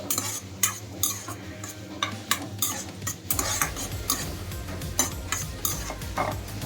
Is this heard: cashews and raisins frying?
yes